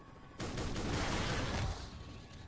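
Attack helicopters in Garry's Mod unleash a dense, continuous burst of gunfire that lasts over a second before trailing into a faint rumble, with no voices over it.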